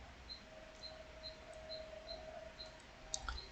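Computer mouse clicks on a PC, a series of small sharp ticks spaced at a steady rhythm, faint and close against a quiet electrical hum.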